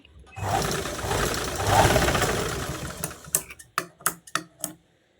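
A sewing machine stitches a border onto a garment neckline, running in a continuous whirring burst and then slowing into a series of short, distinct stitching pulses near the end.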